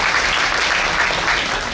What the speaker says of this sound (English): Round of applause for Dejan, everybody.